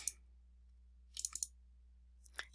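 Computer mouse clicks, a short cluster of light, crisp clicks followed by another pair moments later, close and quiet over a faint steady hum.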